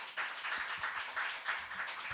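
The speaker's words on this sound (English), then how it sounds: "clap for the parents" A literature festival audience applauds the parents with steady, moderately distant clapping from many hands, sustained and even throughout.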